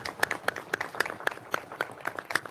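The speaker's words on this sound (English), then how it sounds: "Let's give Will a round of applause." A small group at an executive committee meeting gives a round of applause to welcome a new member, with sparse, distinct claps at a steady rhythm, moderately quiet and close.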